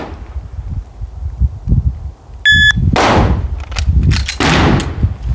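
Glock pistol fired on a range during a red dot sighting drill: a few sharp, loud shots in close succession, each with a brief ringing tail, over quieter rustling and handling noise.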